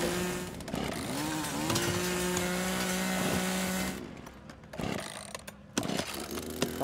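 A chainsaw roars in The Culling multiplayer game, a loud buzzing engine holding steady for about four seconds, then cutting out into scattered thumps and bursts.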